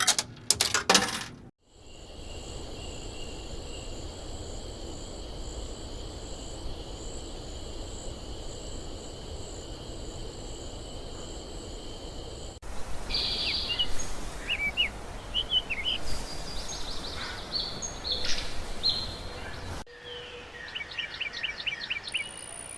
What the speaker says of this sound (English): in the first scene, you can hear like the crickets doing that little murmur that it does.